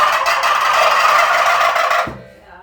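A turkey gobbles in a rapid warbling burst lasting about two seconds, loud and close, then cuts off abruptly.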